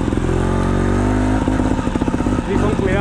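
Rich-running carbureted trial motorcycle engine climbing a steep ski slope at high altitude, loud and close, pulsing and revving unevenly as the throttle is worked, with talk over it.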